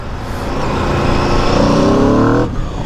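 A 2023 Aprilia RSV4 superbike engine roars loudly while being ridden, a sustained close-up rising rev that climbs in pitch before briefly dropping off near the end.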